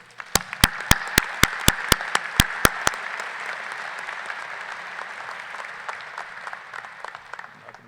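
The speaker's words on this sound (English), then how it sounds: "Would you please give me a round of applause for Drew Boyson?" An audience at a university commencement ceremony breaks into steady applause. A few sharp, loud claps stand out close by at first, then the clapping settles into a broad, even roar before thinning slightly.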